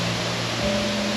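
Guseong Falls in the Cheongpyeongsa valley pours water down in a steady, dense, close roar that stays even throughout, with no voices.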